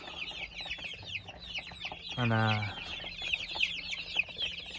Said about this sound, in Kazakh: балапанды жерге түсіремін.